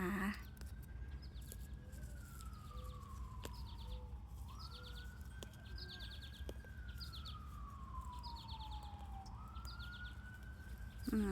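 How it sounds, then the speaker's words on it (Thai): An ambulance siren wails in slow rising and falling sweeps, somewhat distant and steady throughout, over a low background rumble. "เสียงวอรถพยาบาล"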